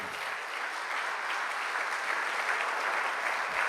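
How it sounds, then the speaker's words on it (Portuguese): A church congregation claps together in steady, sustained applause that fills the room at an even loudness throughout, with no speech over it. "Então dê uma salva de palmas para Ele."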